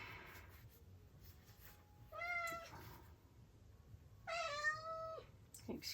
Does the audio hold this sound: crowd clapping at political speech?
no